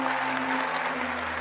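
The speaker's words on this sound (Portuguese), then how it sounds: "então vamos aplaudir com entusiasmo" An audience applauds for the First Lady, a short dense burst of steady clapping over a low sustained hum, with no voices.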